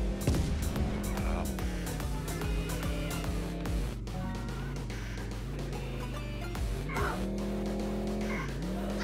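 A car drifts in the video game Guts And Glory, its engine droning steadily while the tires squeal through long slides, the pitch rising and falling with each turn.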